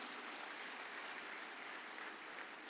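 Audience applause in a conference hall during a business plenary session, a dense, even wash of clapping from many hands that sustains steadily throughout, somewhat distant.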